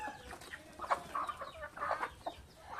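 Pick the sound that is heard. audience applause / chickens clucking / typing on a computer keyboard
chickens clucking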